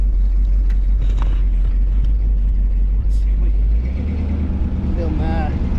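A K5 Blazer on 38-inch tires drives through deep snow among trees, a heavy low engine rumble steady and close, easing slightly partway through, with a person talking over it.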